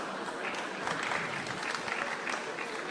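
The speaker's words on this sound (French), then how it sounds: "Ne nous applaudissons pas." An audience applauds at a talk in France, dense steady clapping from a crowd that holds evenly throughout.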